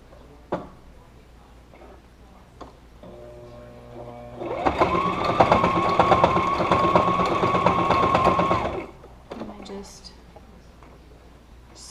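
Sewing machine stitching a homemade face mask, a steady whirring mechanical run of about four seconds that starts and stops between quieter handling sounds, fairly close.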